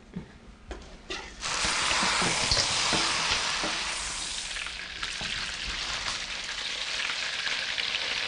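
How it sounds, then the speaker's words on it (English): Prawns hit very hot oil with a sudden loud sizzle after a few soft clicks, then a dense, steady crackling fry that eases slightly as it continues. "Now we'll fry the prawns. The oil must be very hot."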